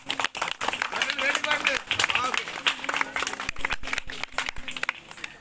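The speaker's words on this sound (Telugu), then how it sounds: "ఒకసారి క్లాప్స్." An audience at a Sankranti celebration prize-distribution event breaks into steady applause, dense clapping mixed with a busy murmur of voices throughout.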